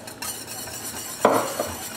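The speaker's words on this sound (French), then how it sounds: "on mélange légèrement le lait et la crème" A spoon stirring milk and cream together with parmesan in a dish for a broccoli pasta gratin, soft scraping with a brief louder clink near the end.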